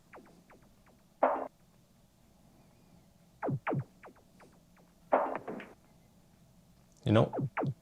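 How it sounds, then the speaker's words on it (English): A progressive house drum melody in an Anjunadeep style: sparse, pitched percussive hits falling in tone, spaced in short irregular groups with a few fuller thumps, fairly quiet and alone. "So this is how the drum melody sounds like."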